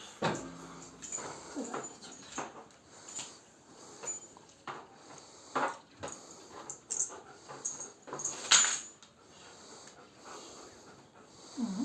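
A Belgian Malinois whimpers, snorts and breathes heavily while being fitted with a new collar, in repeated short bursts at close range, with some household movement around it.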